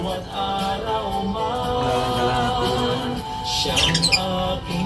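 A sun conure parrot gives a few short, sharp squawks and chirps near the end, standing out over a steady background of humming, tonal noise.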